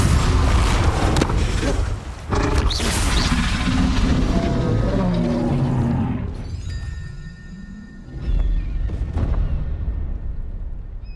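Confringo spell blasts in Hogwarts Legacy on PS5, loud booming explosions and crashes in a dense, roaring combat mix that briefly eases before surging again, with a character's voice calling out amid the action.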